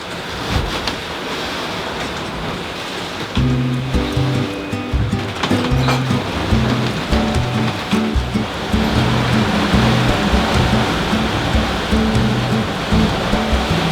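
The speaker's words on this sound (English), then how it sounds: "swells are big" Big ocean swells rolling past a sailboat crossing open Atlantic water from Cascais to Madeira, a steady broad wash of surf and wind noise with a low rhythmic engine-like throb joining partway through, no talking.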